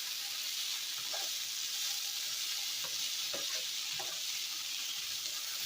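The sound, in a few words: ground hamburger meat frying and sizzling in a pan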